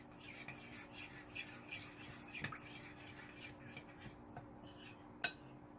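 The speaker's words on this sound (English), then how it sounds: "Make sure you stir it" A spoon stirs thick Irish moss gel into oats in a bowl, giving faint, quiet scraping and occasional clinks against the dish, with one sharper knock near the end.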